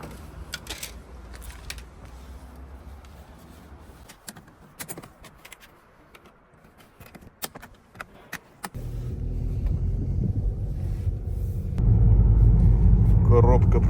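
A 2017 VW Tiguan 2.0 starts with scattered clicks and knocks from keys and the door, then a low engine rumble swells and holds as the car pulls away and drives, growing louder near the end.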